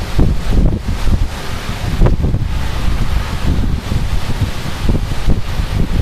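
Gusts of wind from storm Kirk buffet the microphone in Clermont-Ferrand, a steady, loud roaring rush that rises and falls in uneven surges, with no voices.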